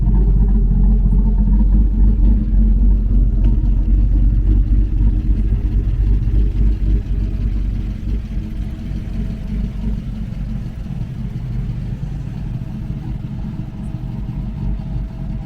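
A cammed 2015 Chevrolet Silverado pickup with a level kit runs nearby with a deep, loud, lopey rumble that eases from a heavier rev into a lower steady idle.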